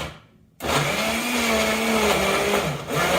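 A blender pulses ingredients for shamrock shakes and other kids' drinks: after a brief quiet start the motor kicks in loud and whirring, its pitch wobbling as the mix churns, with a short dip near the end.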